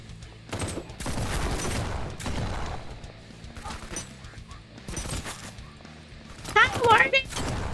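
Rapid bursts of rifle and handgun gunfire in the Kinki Spiritual Affairs Bureau video game, sharp repeated cracks and thuds coming in clusters, loud and close, mixed with game sound effects.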